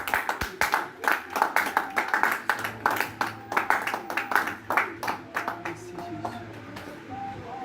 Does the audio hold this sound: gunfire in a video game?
no